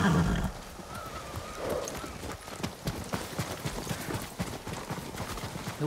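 Horses in the Ghost of Tsushima game clip-clop over the ground in a quick, uneven rhythm, with a whinny early on, close and moderately loud.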